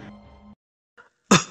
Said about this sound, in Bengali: খুব করে একটু কেশে গলাটা পরিষ্কার করে নিয়ে জিজ্ঞাসা করেন